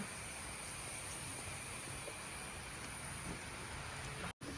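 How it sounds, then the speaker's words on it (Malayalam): Steady, dense rain hiss fills the whole stretch without letup, broken only by a brief dropout near the end. "നല്ല മഴയുണ്ട് മഴയുണ്ട് മഴയുണ്ട്"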